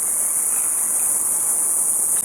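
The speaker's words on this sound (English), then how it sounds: "The cicadas are incredibly loud here." Loud cicadas buzz in a steady, piercing high drone near a roadside gas station, continuous and unbroken, with faint background rumble beneath.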